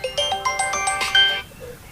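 A phone ringtone plays a bright, repeating electronic melody of quick rising notes for about a second and a half, close and clear, then stops.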